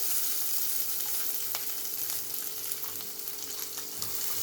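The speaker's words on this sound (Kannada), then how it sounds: "ಅದು ಕೂಡ ಎಣ್ಣೆಯಲ್ಲಿ ಫ್ರೈ ಆಗಬೇಕು. ನಾನು ಗೋಡಂಬಿನ ಹಾಕೋತಾ ಇದ್ದೀನಿ." Cashews frying in oil, producing a steady, close sizzling hiss with occasional faint stirring clicks and no talking.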